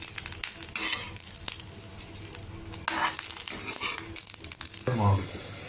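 Bottle gourd peel sautéing in a pan, a steady sizzle with bursts of stirring and spatula scrapes against the metal, close and fairly loud, no voices.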